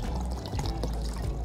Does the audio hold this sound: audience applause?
no